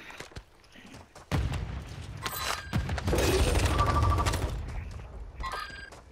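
Gunfire from a shooting video game, a dense mechanical rattle of rapid shots and clanking weapon handling that swells and holds for a few seconds, loud and close, with brief shouts nearby.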